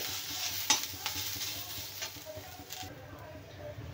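Onions sizzle softly in a pan while a utensil stirs and scrapes through them, a steady low frying hiss with a few light knocks, fairly quiet and close.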